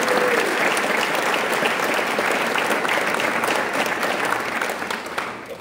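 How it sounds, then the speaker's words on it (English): Sustained applause from a large ceremony audience at a military change-of-command event, dense and steady clapping that fills the space and tapers slightly near the end. "let's just give them a round of applause, because they crushed it."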